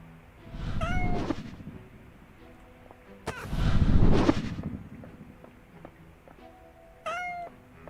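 Cat meows in the video game Goblin Cleanup: three separate calls spread out with pauses between, the middle one loud and drawn-out, the others shorter, heard alone over low game ambience.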